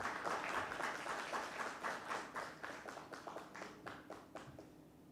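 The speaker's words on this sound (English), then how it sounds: "A great round of applause," An audience applauds at a corporate insurance awards event, a modest group clapping with distinct individual claps that grows sparser and fades toward the end.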